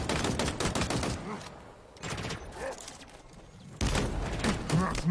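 Halo video game gunfire, rapid volleys of loud shots in bursts separated by short lulls, close and punchy throughout.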